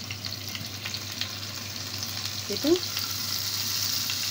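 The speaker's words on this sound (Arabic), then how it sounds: "هنزل بالزيت بتاعي، وبعدين انزل على طول بالثوم والفلفل والبهارات" Garlic, pepper and spices frying in hot oil, a steady soft sizzle close by with a brief stirring scrape and a word spoken over it.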